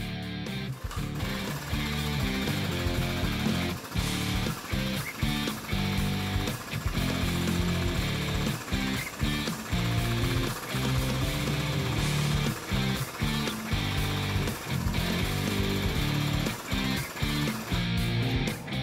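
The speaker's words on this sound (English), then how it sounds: "and cut some Docol tubing." Power tool cutting Docol steel tubing in a garage, a loud continuous grinding whine with irregular pulses and brief dips as the cut progresses, close and without speech.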